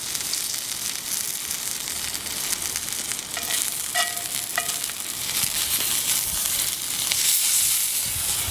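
Steak sizzling on a hot grill, a steady bright crackling hiss with a few faint metallic clinks in the middle, close and continuous with no talk.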